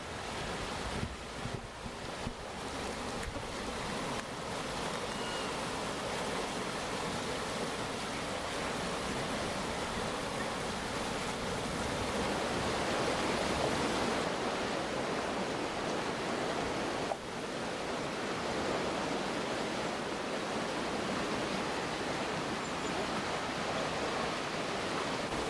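Water of the River Seine rushing along the bank, a continuous broadband wash with wind buffeting the microphone, steady and close, with no talk.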